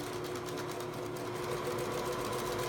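A sewing machine back stitching along a pillow seam runs in one steady, even mechanical whir that stays close and fairly quiet throughout, with no voices over it.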